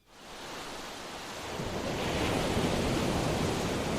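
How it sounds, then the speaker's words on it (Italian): Rough, choppy sea surf roars as a steady broadband wash, swelling louder partway through; no gulls stand out clearly above the constant noise. "Questo è già un mare più mosso con anche tanto di gabbiani."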